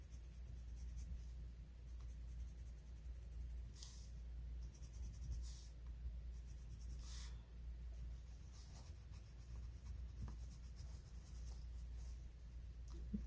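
Colored pencil rubs softly across paper in a faint, continuous scratching, with brief bursts of stronger strokes, close up and with no voices.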